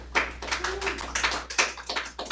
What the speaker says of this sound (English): If we could have a nice round of applause for my guest, Elizabeth Harold